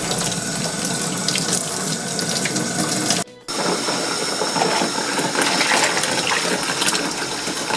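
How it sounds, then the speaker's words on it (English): Hot water gushes from a tap into a tub for laundry stripping, a loud, steady splashing rush that cuts out for a split second midway and then resumes. "I'm going to get that hot water running."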